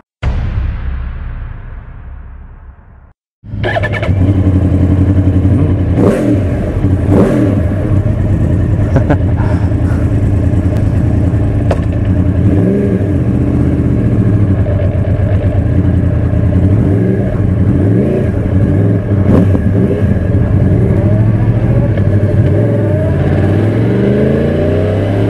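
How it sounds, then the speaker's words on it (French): Yamaha YZF 1000 R1 sportbike engine droning steadily at speed with loud wind rush while riding, after a brief quieter idle and a short cut; pitch rises and falls with acceleration throughout. "pour entendre le son du vent, du moteur"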